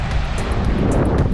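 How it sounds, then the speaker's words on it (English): Strong wind roars across a beach in Cayman on a windy day with rough seas, buffeting the microphone in a steady, loud, broadband rush with faint surf beneath, no voices. "But yeah, it's a very windy day"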